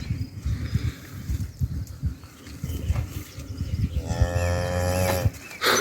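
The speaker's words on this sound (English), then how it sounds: "This lady's a heifer." A heifer cow lets out a loud, drawn-out moo near the end, following a stretch of low farmyard rumble and shuffling. No one speaks.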